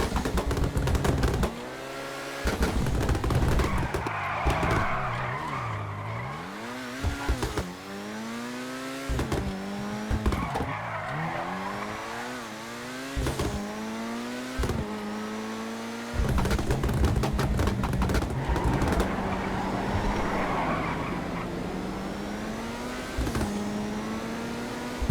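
A car in GTA 5 Online drives and accelerates, its engine revving up and down through repeated gear shifts, loud and continuous without talk.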